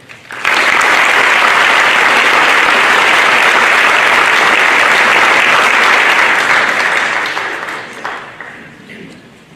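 Audience applause fills a high school senior scholarship award night, a loud, dense burst of clapping that holds steady for several seconds and then gradually thins and fades.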